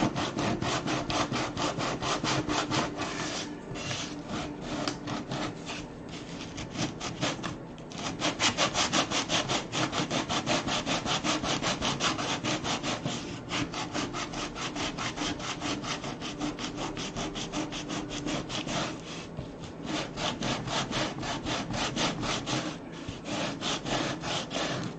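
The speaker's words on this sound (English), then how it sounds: "look how thick that sandpaper is. I don't know why this Bondo is so incredibly strong." Thick, coarse sandpaper grinds steadily against hardened Bondo filler in continuous rapid back-and-forth scraping strokes, close and fairly even for the whole stretch without talk.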